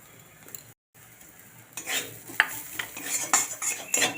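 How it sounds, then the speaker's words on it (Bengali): Chicken pieces stirred in a pan with ground coriander and cumin: a brief gap, then scraping and clinking of a utensil against the pan in irregular strokes over a soft sizzle, close and fairly quiet. "এই চিকেনটা দিয়ে এক নাড়াচাড়া করে নিলাম"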